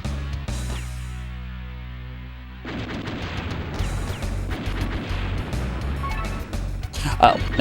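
Shots fired at enemies in Blaster Master: Blasting Again on PS1, a run of bursting blasts and impacts after a quiet hum, loud and close, with voice-like game noise mixed in.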